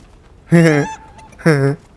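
Two loud, close squawking clucks from a chicken in Fortnite zero build battle royale, each about a third of a second long and separated by a short pause.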